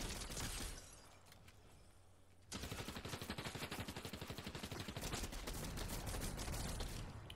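Rapid shotgun fire rattles in a fast-paced online shooter game, first a dense burst of blasts, then after a brief lull a long, steady string of sharp, evenly spaced shots at close range.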